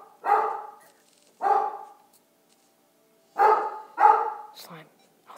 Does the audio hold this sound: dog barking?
yes